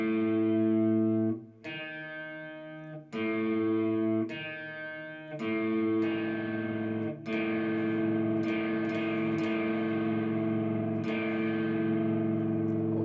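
Heavily distorted electric guitar rings out in a series of gritty, grinding two-note tritone chords, each struck and sustained before the next, ending in a long held tone.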